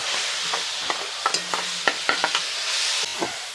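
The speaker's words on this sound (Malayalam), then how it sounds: "ഇഞ്ചി വെളുത്തുള്ളി പേസ്റ്റ് മൂത്ത് വരുമ്പോൾ നമുക്ക് തക്കാളി അറിഞ്ഞിട്ട് കൊടുക്കാം" Ginger-garlic paste sizzles in a pan for chicken curry, with a spoon stirring through it and several sharp metallic taps and clinks against the pan; no voices.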